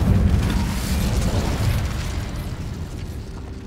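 Confringo blasting spell explosion in the Hogwarts Legacy video game: a loud, close boom with a rumbling low end that slowly decays over several seconds, with no talk.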